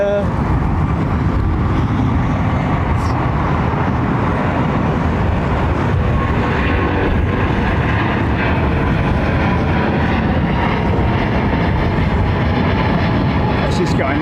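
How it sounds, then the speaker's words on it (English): Westbound jet aircraft near London Heathrow Airport, a loud, steady broadband engine roar that holds unbroken for the whole stretch, with faint background talk beneath it. "That's just going left. It's a westbound jet, I think."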